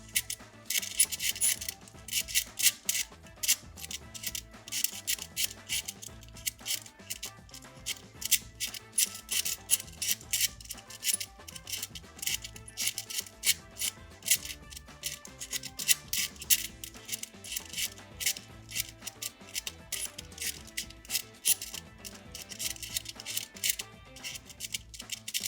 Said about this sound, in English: before start solving this puzzle, I have to mix it so that I will have something to do.